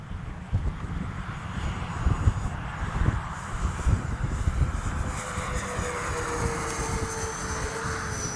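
OV-10 Bronco model warbird airplane flying at a flightline on a windy day, its engine drone steady and fairly close, swelling and fading slightly as it passes.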